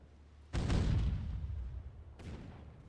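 A turret is destroyed in NavalArt Survival II: one heavy booming explosion with a rumbling decay, then a second, weaker blast a moment later, with no talk.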